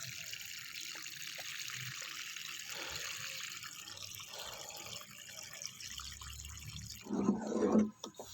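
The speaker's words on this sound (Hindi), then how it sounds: "इसको अब थोड़ा सा पानी देते हैं" Water poured from above onto soil in a freshly planted garlic pot, a soft steady trickle and dribble at close range that ends in a brief louder splash.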